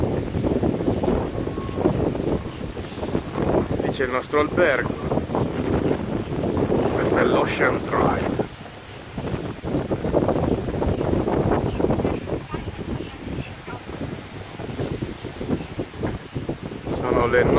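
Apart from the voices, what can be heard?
strong wind on Miami Beach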